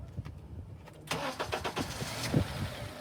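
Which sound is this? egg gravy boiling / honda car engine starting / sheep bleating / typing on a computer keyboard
honda car engine starting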